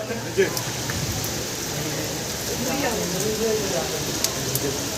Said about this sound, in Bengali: এই মুহূর্তে প্রচণ্ড বৃষ্টি এবং ঝড়ো হওয়া বইছে